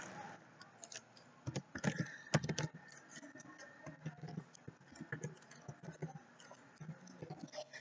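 Close, quiet typing on a computer keyboard, with irregular clusters of key clicks and a few louder taps, some short pauses between bursts, and no talking.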